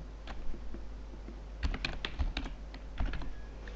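Keystrokes on a computer keyboard entering a filter name in a CRM program, a few scattered taps and then quicker bursts of typing, close and moderately quiet, with no talking.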